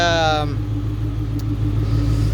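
A 2003 supercharged Ford Mustang Cobra Terminator engine runs close by, settling from a brief rising whine into a loud, steady, deep idle rumble with no talk over it.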